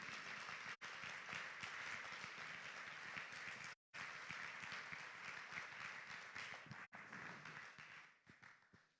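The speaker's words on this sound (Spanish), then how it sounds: "Dale palmas al Rey." A church congregation claps steadily and densely through a Spanish-language sermon service, the applause loud and continuous with a couple of brief breaks before it tapers off near the end.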